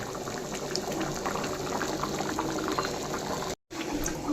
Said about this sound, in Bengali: এইদিকে এটা ফুটছে টকবক করে